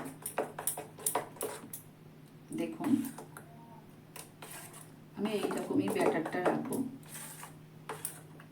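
Cake batter is mixed in a bowl, with scraping and clinking strokes coming in short bursts between stretches of someone talking nearby.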